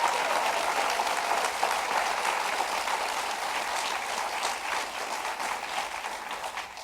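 Audience applause for a high school choir at a mayoral debate, dense and sustained, gradually fading slightly toward the end.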